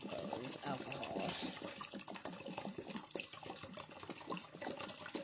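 Alcohol poured into a jar of vanilla beans, a steady liquid splash and trickle that runs the whole time at moderate loudness, with some talking over it.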